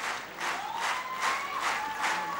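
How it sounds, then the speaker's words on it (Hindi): Steady audience applause at a celebration event, a dense wash of clapping that swells in regular waves and runs on without a break. "तालियां रुकने मत दीजिए, तालियों का सिलसिला बना रहना चाहिए"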